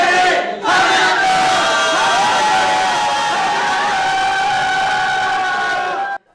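A crowd of citizens in Gwangju cheers and shouts together in a loud sustained roar after a sharp dip near the start, stopping abruptly at the end.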